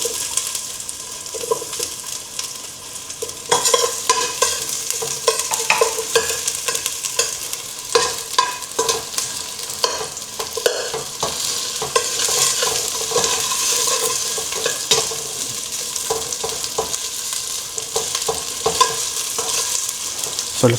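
Ginger sautéing for chicken tinola sizzles steadily in a hot pan, with repeated scraping and stirring strokes close up and no talking.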